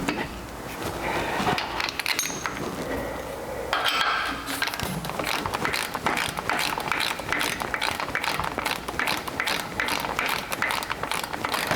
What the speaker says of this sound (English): you'll probably need to use your 17mm wrench to back that pin up and keep it from spinning